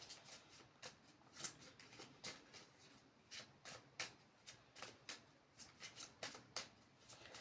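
Tarot cards being shuffled at close range, a quiet run of soft riffling bursts repeating in an uneven rhythm, with no voice over them.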